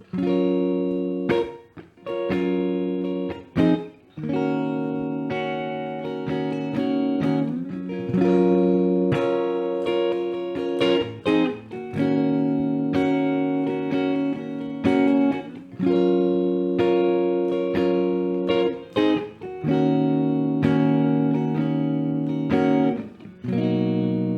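Rhythm guitar strumming the chords of the bridge of "Easy" by The Commodores, sustained chords changing every few seconds with a few brief gaps, clear and alone with no talking.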